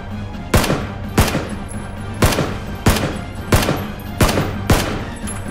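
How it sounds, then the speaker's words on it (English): Gunfire in PlayerUnknown's Battlegrounds: eight sharp, loud shots at a steady rhythm about two-thirds of a second apart, crisp and close, over a faint low hum. "I'm just shooting at him"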